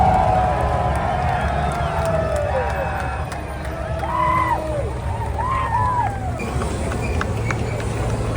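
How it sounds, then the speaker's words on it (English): A crowd watching the US Army 250th anniversary military parade in Washington DC cheers and whoops as M1 Abrams tanks speed up, with scattered shouts and whistles rising over the rumble of vehicles and nearby talk. "sometimes they would randomly speed up and the crowd goes wild"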